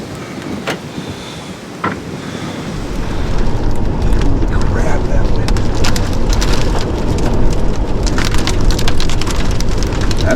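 Heavy, wind-driven rain in a severe thunderstorm pelts a truck camper. It starts as light patter with a few sharp taps, then abruptly swells into a loud, dense, steady roar of drumming drops close by.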